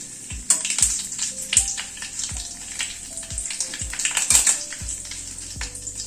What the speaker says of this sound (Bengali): ফোড়নটা ক্র্যাক করার জন্য 10-20 সেকেন্ড মতো অপেক্ষা করব